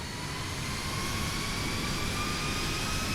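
A steady, loud jet engine roar with a high whine from an airplane in the X-Plane flight simulator game, like idling or taxiing, constant throughout with no talking.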